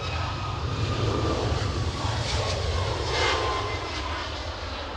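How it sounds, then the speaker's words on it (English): A Ryanair airliner takes off at Edinburgh Airport, its engines producing a loud, steady roar that holds for the whole stretch and swells slightly near the end. "Ryan taking off and that Yeah. one coming in. We might bug out of this shot very quickly for the inbound aircraft."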